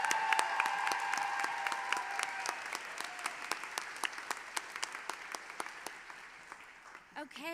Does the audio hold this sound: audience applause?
yes